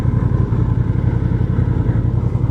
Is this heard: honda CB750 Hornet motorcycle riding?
yes